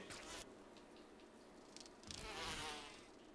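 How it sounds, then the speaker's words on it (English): Giant bees in the Resident Evil 1 game buzz in faint, fluttering bursts, a thin insect drone rising and falling for a few seconds with no talk over it. "Fucking big ass bees."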